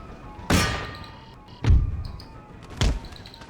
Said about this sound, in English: Keep this artillery firing on here.